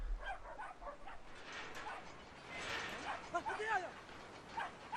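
Small dog barking in the video game Brothers: A Tale of Two Sons, a few quick yips and barks mixed under game music and ambience while someone talks over them.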